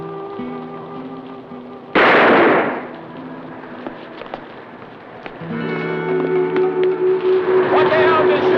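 Gunfire in a 1975 thriller film sounds as a sudden loud burst near the start, then lighter cracks and pops scattered over a tense music score, with a voice speaking through it.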